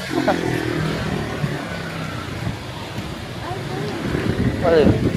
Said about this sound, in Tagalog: Ang lakas ng hangin ah.